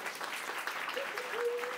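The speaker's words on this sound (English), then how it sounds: "Can we have a massive round of applause for us?" A crowd applauding, a dense wash of clapping that holds steady throughout, with a faint whistle or cheer rising near the end.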